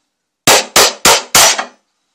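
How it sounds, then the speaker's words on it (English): Four sharp, loud hammer blows in quick, even succession strike a metal part of a foldable suitcase vehicle, each ringing briefly before the next, then silence. "This is being hammered because this hasn't got used to it."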